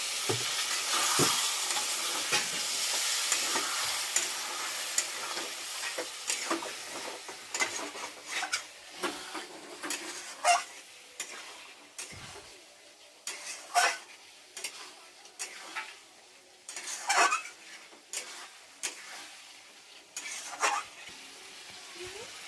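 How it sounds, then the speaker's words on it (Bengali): Spice paste being stirred and fried in a pan with a splash of water added, a steady sizzle with repeated scraping and tapping stirs, close and fairly loud, no talking. "আমি একটু জল দিয়ে দিচ্ছি, দিয়ে মশলাটা কষাচ্ছি, তাহলে মশলাটা পুড়বে না।"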